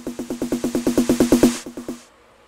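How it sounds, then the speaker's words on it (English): A one-bar introduction snare in FL Studio plays as a quick run of about fifteen evenly spaced snare hits that rise in loudness. A few slower hits follow and the run fades to silence. "this introduction snare"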